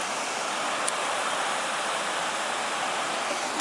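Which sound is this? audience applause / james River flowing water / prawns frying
james River flowing water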